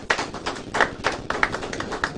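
A few people at a media launch event give sparse, irregular applause, individual claps standing out clearly rather than a full crowd ovation.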